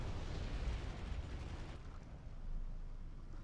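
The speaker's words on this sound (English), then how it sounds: "Explosion." Explosion in the Wargame real-time strategy game as a BTR-60 PAI armoured vehicle is destroyed, a loud dense low rumbling blast that fills the whole clip and slowly thins, with no talk over it.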